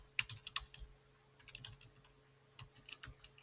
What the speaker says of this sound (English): I'm going to type my fruits